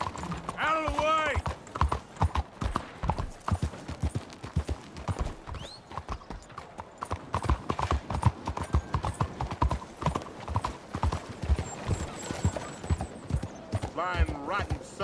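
Horse hooves galloping in Red Dead Redemption 2, a fast rhythmic clip-clop pounding steadily throughout, with a horse whinnying near the start and end and game dialogue voices mixed in.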